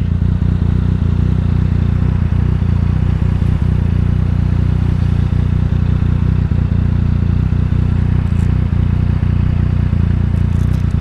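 Yamaha FZ-09 motorcycle ridden through Mulholland Canyon, its engine a loud, steady, continuous roar with heavy low rumble and wind noise throughout, no talking.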